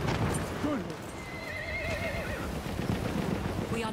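A horse in the Battlefield 1 video game lets out a wavering neigh over muffled hoof clopping and dense battlefield ambience, with a voice talking briefly underneath.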